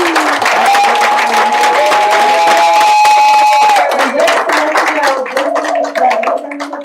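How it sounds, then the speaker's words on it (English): Audience at a STEM intern showcase applauding: loud, continuous clapping with some cheering throughout, a whistle-like tone riding over it, and the clapping thinning slightly toward the end. "give them an awesome round of applause"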